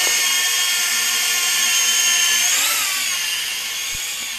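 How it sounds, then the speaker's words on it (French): Metakoo Q323 drone hovering in calm air, a close, loud, steady high-pitched whine of spinning propellers that wavers slightly in pitch and eases off a little toward the end. "Le drone ne bouge quasiment pas."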